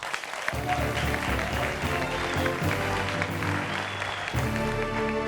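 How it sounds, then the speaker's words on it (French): Applause from an audience at a live comedy show, a steady wash of clapping lasting several seconds under loud background music, cutting off briefly near the end. "Applaudissez pour lui quand même."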